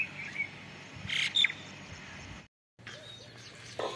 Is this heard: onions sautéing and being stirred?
no